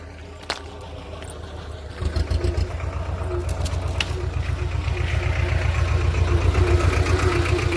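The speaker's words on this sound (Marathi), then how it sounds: "आला आला ट्रॅक्टर आला" A tractor engine draws closer, its low rhythmic chugging becoming steady and growing gradually louder and nearer over a faint background.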